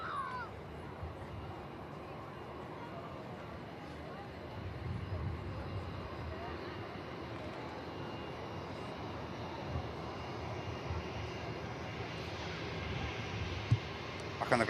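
A Lufthansa Airbus A321 jet airliner with IAE engines taxiing around a corner at Manchester Airport, a faint, steady distant jet whine and rumble lasting throughout, with commentary over it.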